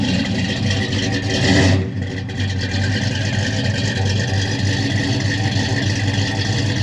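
A 1967 Chevrolet Chevelle convertible's big-block 396 cubic inch V8 idles steadily with a deep, rumbling burble, giving one brief rev blip before settling back to a smooth idle, heard alone at close range.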